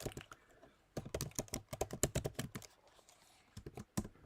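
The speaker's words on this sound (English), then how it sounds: "I type loud." Loud, fast typing on a computer keyboard, close by, in quick irregular bursts of sharp clacks with brief pauses between them; no voices.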